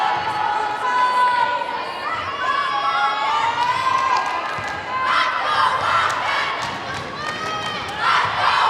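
A gym crowd at a girls varsity volleyball match between Wakefield and Wilmington cheers and shouts loudly, with sustained chanting voices swelling and falling across the moment.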